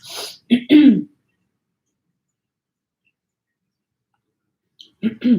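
Two short bursts of coughing and throat clearing at the start, then a long silence, and another rough throat clear near the end.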